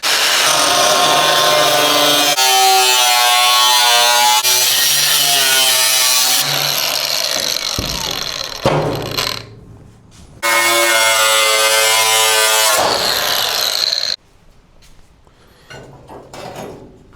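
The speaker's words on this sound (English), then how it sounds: "I'm cutting this out with my 20-volt Arc Captain battery-powered cordless angle grinder." A 20-volt cordless battery-powered angle grinder cuts through a pickup truck's inner wheel well sheet metal, whining loud and close in two long bursts, with scraping and clatter between and after.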